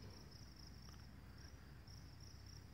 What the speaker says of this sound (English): It's about 6 p.m. and you hear the crickets up here.